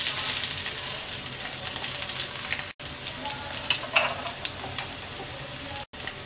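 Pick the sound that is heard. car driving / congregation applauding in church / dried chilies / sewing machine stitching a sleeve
dried chilies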